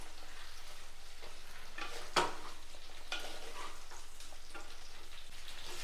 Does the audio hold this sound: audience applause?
no